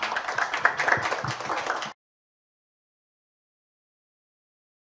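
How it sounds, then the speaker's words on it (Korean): Audience applause at an investor demo day pitch event welcoming a presenter, a dense moderate clapping that runs for about two seconds and then stops abruptly into silence. "그러면은 박수로 모시겠습니다."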